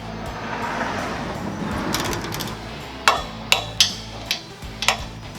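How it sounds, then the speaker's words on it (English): A torque wrench tightens bolts during an electric tongue jack install on a trailer, a series of sharp metallic clicks in the second half over a quiet background hum. "So I've got my torque wrench set for 20."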